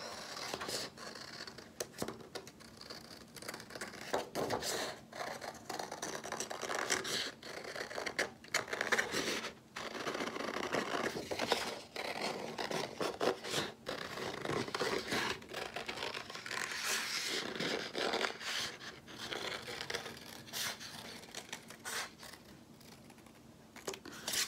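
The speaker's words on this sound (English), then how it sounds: "Now, I'm gonna use my scissors to cut those things out." Scissors snipping through paper to cut out small circles for a shark craft, a steady run of close crisp cuts and rustling paper, with brief pauses between strokes.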